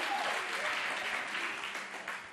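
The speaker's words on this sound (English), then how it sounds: "Is that applause for just California or Berkeley or just Berkeley?" Crowd at a comedy stand-up show on a theater stage breaks into applause, a continuous moderately loud clapping that tapers slightly toward the end.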